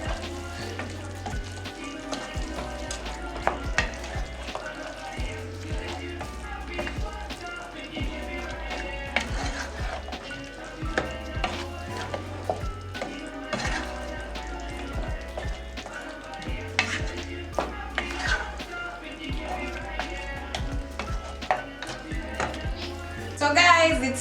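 Sweet potato and beef stew being stirred in a pot: a steady sizzle with frequent sharp scrapes and clinks of the spoon, sitting over a continuous low backing sound throughout.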